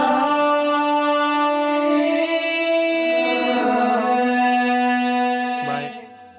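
A vocal track in Logic Pro X with its reverb wet signal reversed, a sustained, shimmering wash that swells and hangs for several seconds, then a sudden brief vocal snap before it cuts out.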